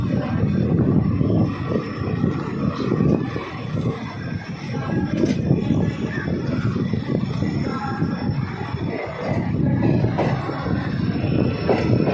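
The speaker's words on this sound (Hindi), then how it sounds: "217 किलोमीटर का डिस्टेंस कवर करने के बाद अपनी ट्रेन पहुंची है स्टेशन" The 12527 Ramnagar Chandigarh Weekly Superfast Express pulls into Laksar Junction station with a loud, steady, close rumble that carries on throughout without letup.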